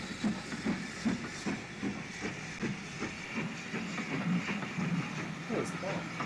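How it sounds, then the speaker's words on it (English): An electric multiple unit train arrives on a tape recording, with rhythmic wheel clatter, hiss and rumble at moderate distance, and people talking over it. "An electric multiple unit arrives from Haywards Heath"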